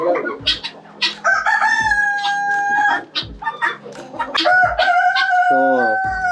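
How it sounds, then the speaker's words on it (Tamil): Chickens and a rooster on a farm in Theni, Tamil Nadu, crowing loudly several times over steady clucking and cackling from the flock, close and busy throughout. "அந்த கருங்கோழி என்ற ஒரு கோழியும் ஒரு சாவலையும் ஒரு பொட்டலையும் நான் தூக்கிட்டு போகிறேன்."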